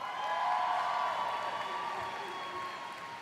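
Graduation ceremony crowd at Akron Early College High School applauds, a loud, sustained round of clapping with some cheering that fades slightly toward the end, with a faint ringing tone underneath.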